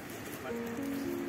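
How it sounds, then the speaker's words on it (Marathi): A river flows near a narrow forest path around Devgad Shirgaon, making a steady, close rushing noise, with a faint voice briefly over it. "आवाज येत असेल तुम्हाला नदीचा"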